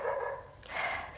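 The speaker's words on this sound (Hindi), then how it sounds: "टाइम इन कुत्तों को भौंकना होता है।" Dogs bark off in the background, two muffled, drawn-out barks in quick succession, distant and fairly faint.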